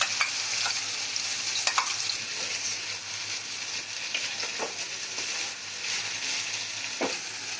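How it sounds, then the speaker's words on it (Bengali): Washed Gobindobhog rice fries in a pan with tomato, a steady sizzle broken by repeated scraping stir strokes, close and fairly loud. "একটু সামান্য ভাজা ভাজা করে নিচ্ছি।"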